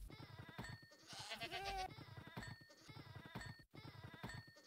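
Baby goats in the Minecraft video game bleat in a string of high, wavering cries, one long strained scream standing out near the middle amid repeated short game-sound bursts.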